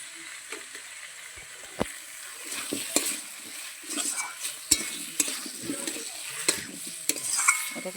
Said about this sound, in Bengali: এটাকে কষিয়ে নেবো একটু